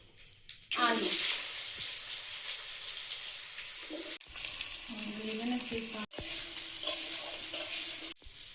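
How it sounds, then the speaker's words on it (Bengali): Potato pieces fry in an oil-filled kadai with black cumin, salt and turmeric, giving a loud, continuous sizzle with brief breaks and stirring scrapes, while a voice murmurs faintly in places. "লবণ আর হলুদ দিয়ে হালকা করে আলুটা ভেজে নিয়ে তারপর চিচিঙ্গাটা দেবো।"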